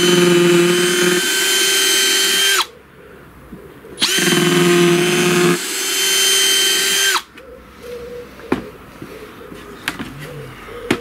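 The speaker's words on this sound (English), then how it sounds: "I'm just going to get the drill out" A power drill driving screws into wood for a bird table whines loudly in two long bursts, pitch dropping as each ends, followed by softer scraping and clatter.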